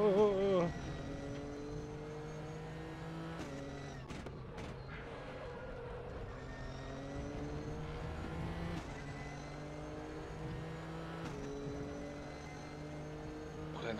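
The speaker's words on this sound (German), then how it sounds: "dein Auto ist so laut" A GT3 racing car engine in the game RaceRoom drones steadily with shifting revs and pitch changes, continuous throughout, with a voice speaking over it.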